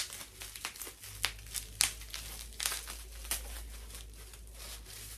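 A well-packed plastic Temu parcel being opened gives irregular bursts of close crinkling and crumpling, with sharp rustles between quieter stretches.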